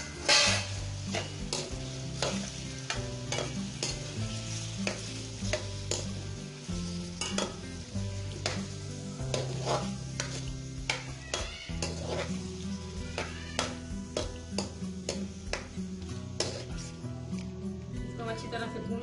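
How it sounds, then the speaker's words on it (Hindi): Half a kilo of chicken fries in two to three spoons of oil in a karahi for Peshawari charsi karahi, a steady sizzle broken by repeated sharp clinks and scrapes of a stirring spoon against the pan, with a voice talking over it. "अच्छी तरह से भून लेंगे चिकन को।"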